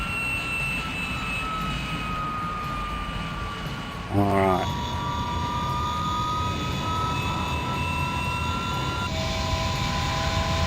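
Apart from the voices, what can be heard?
aircraft engines running in Microsoft Flight Simulator video game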